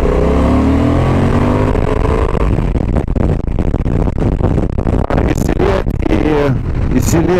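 A 2025 Honda Transalp 750 motorcycle accelerates hard on a road, its engine note climbing loudly at first and then fading into steady wind rush and road roar.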